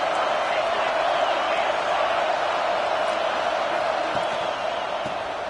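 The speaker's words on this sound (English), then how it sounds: "this home crowd is fired up and ready to make a difference" A home crowd at a football game keeps up a steady, dense roar throughout, loud and unbroken, with faint voices mixed in.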